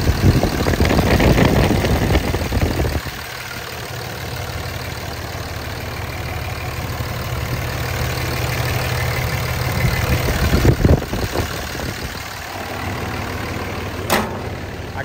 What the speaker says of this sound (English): this thing was sitting outside of my office idling